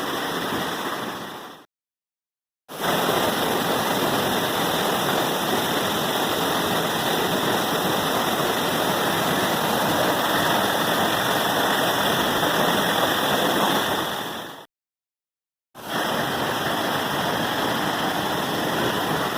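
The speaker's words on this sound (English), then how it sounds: "this is the tallest waterfall in Indiana" Williamsport Falls, the tallest waterfall in Indiana, roars as a loud, constant broadband rush of falling water, cut by two brief moments of silence.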